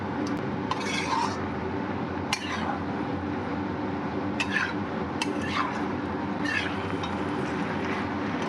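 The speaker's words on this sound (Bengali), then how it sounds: "এখন ধনেপাতার সঙ্গে সব উপকরণ খুব ভালোভাবে নেড়েচেড়ে মিশিয়ে দিচ্ছি।" Shrimp and mixed vegetables with coriander leaves being stirred in a pan over a steady sizzle, with occasional utensil scrapes and clinks, close, no speech.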